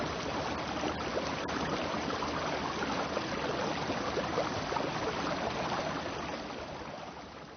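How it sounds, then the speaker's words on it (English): A river runs swiftly under a bridge, giving a steady, dense rushing of water throughout that eases slightly toward the end, with no voices. "the sounds he heard were just those of the river running swiftly under the bridge"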